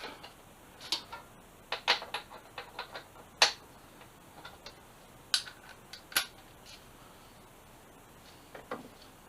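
Torque wrench tightening bolts on a 2007 Suzuki GSX-R 750 motorcycle, a series of sharp ratcheting clicks in irregular short bursts against a quiet background, no speech.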